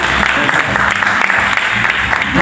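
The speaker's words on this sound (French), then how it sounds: "Allez, on applaudit Tom Tom." A short burst of steady audience applause for a singer at a casting event at a French community centre, dense clapping from a nearby crowd filling the whole moment.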